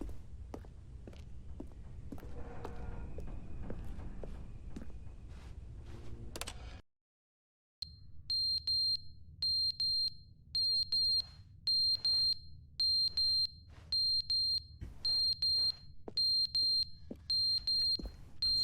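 An electronic alarm in the video game The Stanley Parable beeps in short, evenly spaced pulses after a brief silence, preceded by faint footsteps and ambient game noise.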